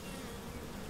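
Bees droning at hive colonies in the Omani mountains, a dense, steady buzz of many insects close by, continuous and unbroken with no voices.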